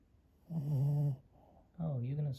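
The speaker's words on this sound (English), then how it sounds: "Oh, you're gonna snore while your eyes are open?" A dog lies awake with its eyes open and snores in two loud, drawn-out, rumbling bursts separated by a short quieter breath, close to the listener.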